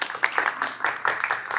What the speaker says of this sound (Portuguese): E agora recebo a doutora Marina com uma salva de palmas.